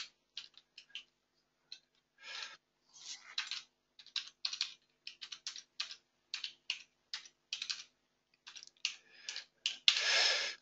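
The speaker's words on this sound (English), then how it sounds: "Let me type it here for you." Typing on a computer keyboard: quiet, close bursts of quick key clicks in uneven clusters with short pauses between, ending in a denser, slightly louder flurry; no voices.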